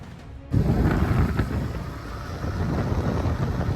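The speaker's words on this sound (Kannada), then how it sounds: "ಮಳೆ ಆಗ್ಬಿಡೈತೆ" Heavy rain pours down in a dense, steady roar that starts abruptly, with low rumbling that suggests thunder and wind buffeting the microphone.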